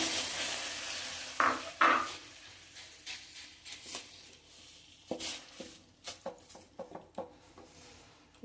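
Aloe vera gel being stirred in a heated pan gives faint scraping and soft clinks of a spoon against metal, irregular taps scattered through a quiet background.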